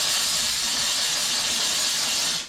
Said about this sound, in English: it heats up the water and turns it into steam